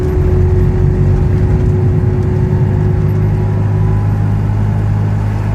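Chatenet CH-46 microcar driving and accelerating, a steady close engine drone with a strong low hum and faint whir, continuous and fairly loud throughout with no voices.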